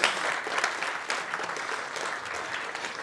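A conference audience of over 250 people claps throughout, dense steady applause that starts strong and tapers slightly toward the end.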